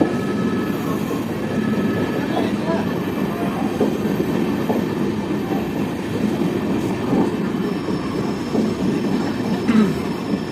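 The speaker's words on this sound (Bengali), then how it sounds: "এলএইচবি কোচ নিয়ে রামপুরহাটের 2 নম্বর প্ল্যাটফর্মে ঢুকে গেল আমাদের ট্রেন।" Tebhaga Express with new LHB coaches pulling into platform 2 at Rampurhat, a steady loud rumble of wheels and rail with faint clicks and a brief squeal near the end, no talking.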